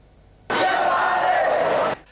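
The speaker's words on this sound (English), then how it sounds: "Police took steps today to disperse an unruly crowd of protesting higher national diploma students in" An unruly crowd of protesting higher national diploma students in Colombo roars as one loud, continuous burst of massed voices for about a second and a half, then cuts off abruptly.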